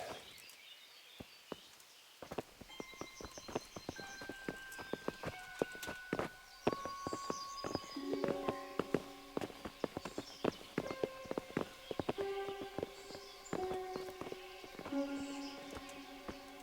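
Horse hooves clip-clop on the ground in the medieval game Kingdom Come: Deliverance, a busy run of many irregular hoof strikes near and moderately loud, mixed with harness jingles and brief tonal game sounds, with no speech.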